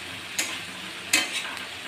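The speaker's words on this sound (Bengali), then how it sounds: "তো আমি পেঁয়াজটাকে একটু হালকা করে ভেজে নেব।" Onions frying and being stirred in butter in a pan with bay leaves: a soft steady sizzle with a few sharper scraping stir sounds, quiet and close, no talk.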